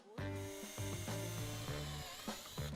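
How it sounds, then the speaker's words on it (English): A power drill whines steadily, pre-drilling an aluminium edge profile for cladding, its pitch dipping and rising in short bursts as the bit bites in, close and loud with no talking. "Pre-drilling the first part of the edge profile."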